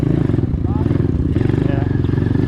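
An Apollo Z20 pit bike engine bogs at low revs, a loud, steady, pulsing putter that stays dense and unchanging throughout with no clear rise in pitch.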